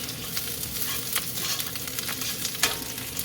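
Potato slices for creamy horseradish scalloped potatoes stirred in a hot pan, giving a steady close sizzle broken by several sharper scraping strokes of the utensil, with no voices.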